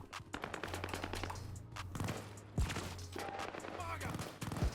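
Video game shooter gunfire comes as rapid bursts of automatic shots with sharp single cracks mixed in, while people talk over the shooting.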